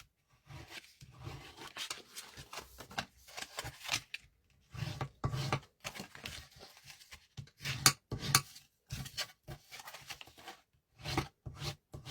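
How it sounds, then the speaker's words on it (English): A tool is rubbed firmly along score lines on card paper to burnish them, making a series of close, dry scraping strokes in irregular bursts with short quiet gaps between them. "I'm just going to burnish the score lines"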